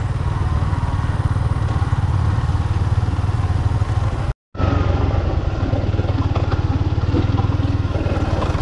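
A light motorcycle runs steadily along a muddy, slippery mountain road between Mangatarem and Santa Cruz, Zambales, its engine droning loud and close throughout, with a brief cutout midway before the rumble resumes.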